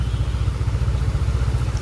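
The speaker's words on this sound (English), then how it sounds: "Heavy traffic" Motorcycle and car engines rumble steadily in heavy traffic on a very small one-way street in Kuta, Bali, a close, continuous low idling drone with faint clatter and no speech.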